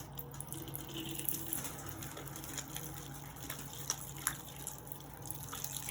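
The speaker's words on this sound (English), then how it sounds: "then we rinse the hands and arms, keeping the hands higher than the elbow" Running tap water splashes softly over hands and forearms during surgical handwashing, a faint continuous trickle with small drips and splashes and no voices.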